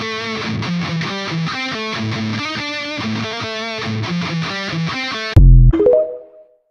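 Distorted electric guitar in drop D tuning plays an intro riff, a fast, even run of picked notes, loud and close, closing on a heavy accented chord that rings out and fades, with no voices.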